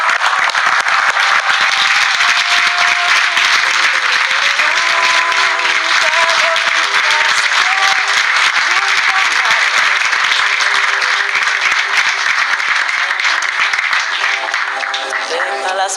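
A television studio audience gives sustained, loud applause for a long stretch, a dense, even wash of clapping that only slightly thins toward the end.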